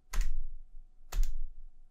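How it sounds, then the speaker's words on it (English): Two crisp, close keystrokes on a computer keyboard, about a second apart, each a sharp click with a short rattle, with silence between. "you want to click backspace on the keyboard"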